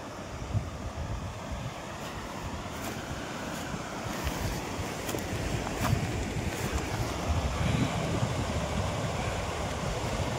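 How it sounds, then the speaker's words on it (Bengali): A mountain river in a Himalayan valley on a trek route flows over stones, giving a steady, broadband rushing wash that holds evenly throughout with some wind buffeting the microphone. "এই যে পুরো নদীটা এইভাবে আস্তে আস্তে বয়ে চলেছে।"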